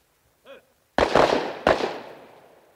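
Firing squad gunshots: two sharp, loud cracks about two-thirds of a second apart, each followed by a decaying echoing tail, preceded by a short faint tonal sound.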